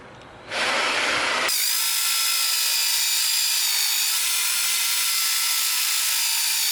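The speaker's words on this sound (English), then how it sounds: "that's where I drill a hole" A power drill starts up and whines steadily at high speed drilling a hole in a trailer build, loud and close, with a brief rougher burst just before the motor settles in.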